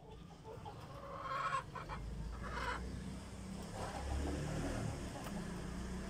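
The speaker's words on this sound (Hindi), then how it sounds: "आपको दिखाता हूँ मैं मुर्गियां।" Chickens in a backyard coop cluck and call at close range over low background rumble, with a few brief louder squawks in the first half.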